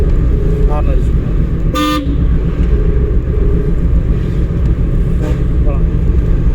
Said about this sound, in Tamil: ஹார்ன் அடிச்சுக்கோங்க.